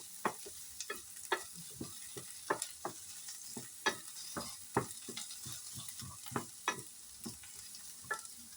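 Onions frying in a pan, crackling sizzle punctuated by a rapid series of sharp spatula scrapes and taps, close and clear with no speech.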